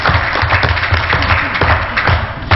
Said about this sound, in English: Stand up, let's give you applause.